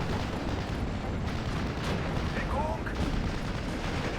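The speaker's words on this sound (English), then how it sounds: "My Pak 40 is still being hammered here by enemy artillery" Enemy artillery shelling in the World War II strategy game Steel Division: Normandy 44 sounds as a dense, continuous rumble of distant blasts and gunfire, with no single impact standing out.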